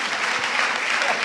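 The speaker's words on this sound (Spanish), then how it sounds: "Sería algo como un aplauso para Diana y para Humberto por ese debate" An audience at a conference panel debate applauds in a short, dense, continuous wash of clapping, heard close and fairly loud.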